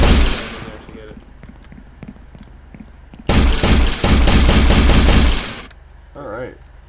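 Bursts of video game gunfire sound loud and sustained, with a fading shot at the start and heavy rapid volleys in the middle, all over a constant game background.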